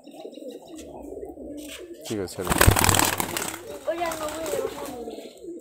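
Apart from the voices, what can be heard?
Giribaz pigeons cooing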